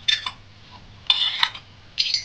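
Small lids and pans from a miniature toy kitchen set are handled, giving three short bursts of light clattering and clinking, close and fairly quiet, with no talk.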